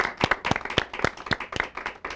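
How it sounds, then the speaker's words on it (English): Scattered hand clapping from an audience on a TV debate show about virtual versus traditional schools, a few distinct claps in an uneven rhythm, moderately close and fairly light, with no voices over it. "Big round of applause"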